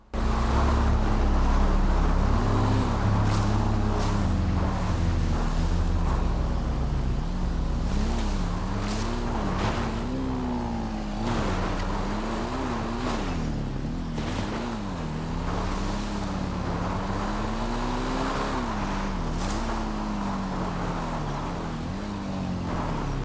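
A car cruising toward a guarded main gate on Cayo Perico in GTA Online, a continuous engine drone rising and falling with gear changes and throttle, loud and steady with wind and surf-like rush beneath.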